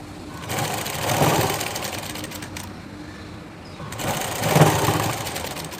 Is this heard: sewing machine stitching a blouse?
yes